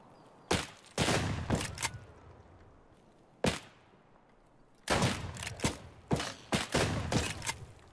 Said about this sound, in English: I'm getting shot at by the fucking scav now.